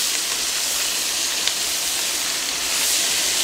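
Onions and carrots sizzling in beef fat in a pot for a slow braise, giving a steady, loud, bright hiss that stays even and close throughout with no talk.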